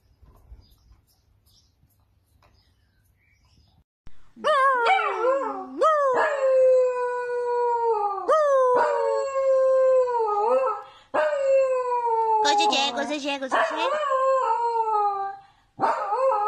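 A dachshund howls repeatedly after a few seconds of near silence, giving a series of loud, close, wavering cries with short breaks between them.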